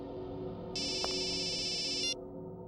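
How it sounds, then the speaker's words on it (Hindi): An electronic phone ringtone trills steadily for about a second and a half over a low background hum, then cuts off abruptly. "बॉस आपका फोन है।"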